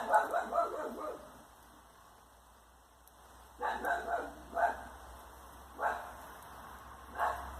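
A dog in a home garden barks at a pigeon that has landed, sounding a quick cluster of sharp barks, then after a pause several more spaced barks in twos and singles, moderately close over a quiet background.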